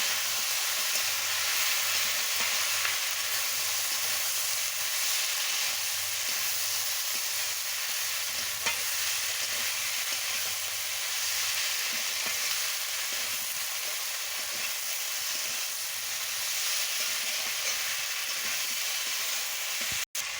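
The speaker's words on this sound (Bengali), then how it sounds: "এবার আমি সরষে বাটা দিয়ে দিচ্ছি দিয়ে ভালো করে আনাজের সঙ্গে কষিয়ে নিচ্ছি" Vegetables, including cauliflower stems, eggplant and ivy gourd, stir-fried with mustard paste in a pan, a steady close sizzle and frying hiss that runs unbroken throughout.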